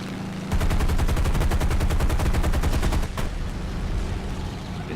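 Rapid automatic gunfire in a video game, a fast loud burst of evenly spaced shots lasting a few seconds, then a short final crack and quieter background game sound, with no talking.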